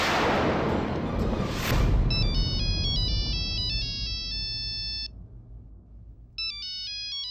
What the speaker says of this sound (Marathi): सुहासिनीचा फोन.